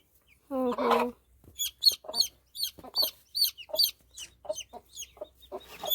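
A hen gives a low cluck while her chicks cheep in quick high bursts, close by in a quiet yard, many short peeps in an uneven rhythm.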